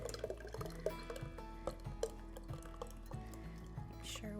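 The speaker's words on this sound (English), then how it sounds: "I'm just gonna pour in my liquid," Blackberry basil ice cream base is poured into a frozen ice cream machine insert, a soft close trickle of liquid with small drips and faint clinks across a few seconds.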